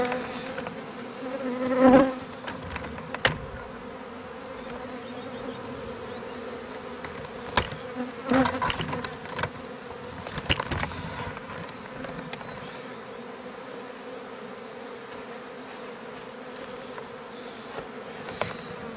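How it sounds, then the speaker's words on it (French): A honeybee swarm collected in a bucket buzzes continuously and close, a dense steady drone with individual bees flitting nearer at moments; no talking. "Donc l'essaim il est dans le seau."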